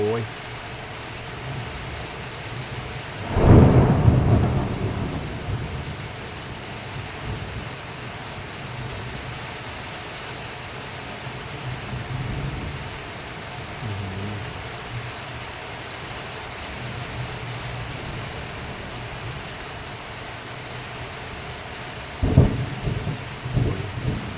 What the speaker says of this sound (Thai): ฝนก็เริ่มตกแรงนะครับ ฟ้า เบิ้งครับโอ้โห